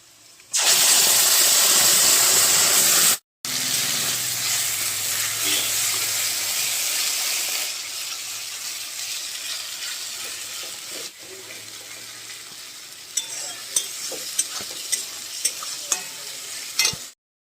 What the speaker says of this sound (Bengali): পেঁয়াজগুলো সুন্দর করে ভাজা হয়ে গেছে তো এখন আমি এর মধ্যে এই পেস্টটা ঢেলে দেব